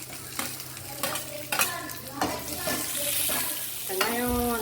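Green chilli, ginger, garlic and onion sauté in a pan with a soft sizzle. Repeated scraping strokes and light clinks of a spatula against the metal cut through it, with no talk.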